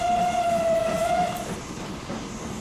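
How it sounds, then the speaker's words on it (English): Fuel train from the game Transport Fever rolling along, a steady rail rumble with a sustained tonal whine or horn-like tone early on that fades, then continuous running noise. "A fuel train."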